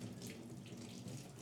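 Tap water runs steadily into a sink as food is rinsed under the faucet, a faint, even splashing rush with no talking.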